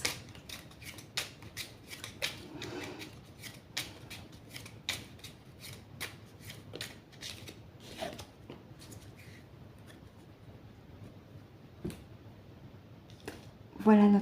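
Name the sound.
shuffling and drawing oracle cards (Star Seeds deck)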